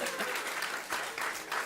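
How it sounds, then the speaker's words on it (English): Audience applause welcoming a wine writer and memoir author as a guest speaker at a chefs' event, steady clapping from a crowd throughout with swells, moderately distant in a hall. "Please give her a round of applause."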